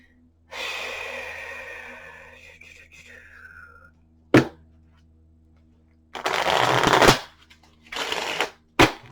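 A deck of cards being shuffled in a few separate bursts of riffling and flicking, heard close and fairly loud, with breathy sighs and faint voice sounds between the shuffles.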